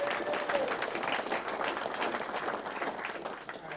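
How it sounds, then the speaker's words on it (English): Attendees at a VR meetup clap for a sponsor, a moderate, fairly quiet patter of many hands that stays even across the clip, with murmuring voices faintly mixed in. "So we can go ahead and clap for them."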